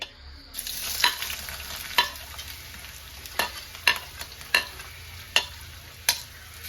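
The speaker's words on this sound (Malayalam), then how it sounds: "ഇനി ഉള്ളി ഒന്ന് ജസ്റ്റ് ഒന്ന് വഴണ്ട് വരട്ടെ വെളിച്ചെണ്ണ കിടന്നിട്ട്." Onions sauté in hot coconut oil in a clay pot, a soft continuous sizzle broken by about eight sharp scraping stirs at uneven intervals, close and fairly loud, with no talking.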